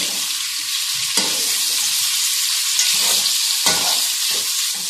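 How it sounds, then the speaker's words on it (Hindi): Ingredients fry in a pan while biryani pulao is made, with a loud continuous sizzle close by and occasional scraping stirs, no speech. "इसका कलर चेंज होने तक हम इसको फ्राई करेंगे।"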